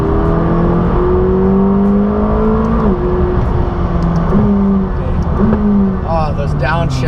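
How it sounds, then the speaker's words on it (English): A McLaren 600LT is driven hard on a race track, its loud, close engine drone broken by abrupt pitch drops and jumps as the gearbox shifts, with a quick rising burst near the end. "Downshifts, oh my gosh,"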